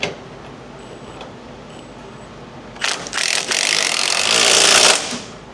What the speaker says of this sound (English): So I'm going to tighten down these bolts.